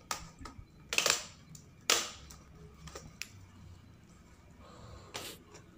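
The plastic keyboard cover of a Dell Latitude laptop being pried off, giving a few sharp, close plastic snaps and clicks spread apart by quiet pauses.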